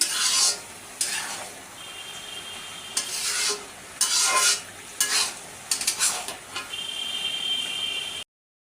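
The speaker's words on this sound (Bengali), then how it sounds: "এই যে কুমড়া মানে ভাজিটা প্রায় হয়ে আসতেছে আমি তো ভাজা ভাজা করে নেব" A spatula stirs ash gourd (pani kumra) bhaji frying in a pan, in close, repeated scraping bursts over a soft, steady sizzle.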